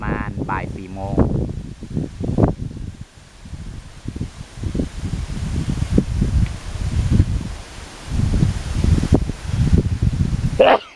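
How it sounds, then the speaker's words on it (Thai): Strong storm wind gusts through tree leaves in the afternoon in Mae Taeng, Chiang Mai, with loud surging rushes and rustling, and brief speech near the start. "เสียงเวลาที่พายุพัดใบไม้"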